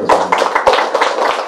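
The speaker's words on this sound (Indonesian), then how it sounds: "tepuk tangan buat yang pintar-pintar semua" Short burst of handclaps from a class audience at the opening of a theatre class, a few distinct claps in an uneven rhythm, close and fairly loud.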